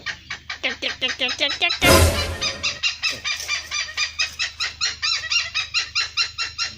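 An oriental pied hornbill calling in a fast, steady series of loud cackling notes, close by, briefly interrupted by a burst of rustling noise.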